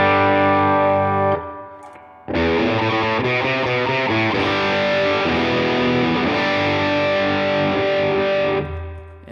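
Clean electric guitar preset on a Line 6 HX Stomp for psychedelic surf and spaghetti western tones, with a ringing chord, a brief pause, then picked notes and chords under shimmering modulation and reverb, loud and alone.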